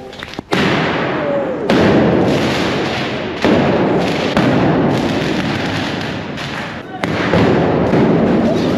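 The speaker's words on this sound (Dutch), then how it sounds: "Het is tijd voor lokaal vuurwerk." Local fireworks go off outdoors in a series of loud, close booms and thuds, each blast followed by a sustained crackling rumble, with voices talking between them.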